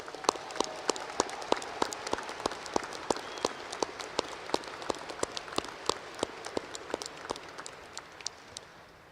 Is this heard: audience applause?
yes